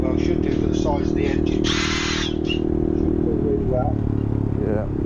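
A CCM Spitfire Scrambler motorcycle pulls uphill in sixth gear at about 4,000 rpm, its engine droning steadily under wind noise while a rider talks over it.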